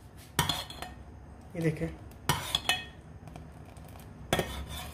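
A metal spoon stirs thickening vanilla custard in a cooking pot, giving a few sharp, scattered clinks against the pot's side with quiet pauses between them and a brief spoken remark.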